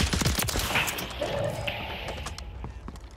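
Gunfire in Warzone 3, a quick cluster of sharp shots at the start followed by scattered fainter reports fading into background noise.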